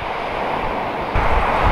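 Ocean surf breaking in strong wind of about 10 m/s on the Chiba coast, a continuous broadband roar of waves and wind buffeting that swells louder near the end.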